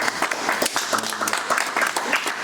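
Audience applause at a French talk show on racism at school, a steady, dense clapping from a room full of people lasting the whole moment, loud and close with no one talking over it.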